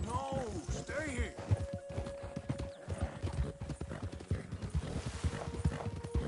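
A horse in the Red Dead Redemption 2 video game clip-clops along at speed with a rhythmic drum of hooves, one neigh near the start, as someone talks excitedly over the hoofbeats throughout.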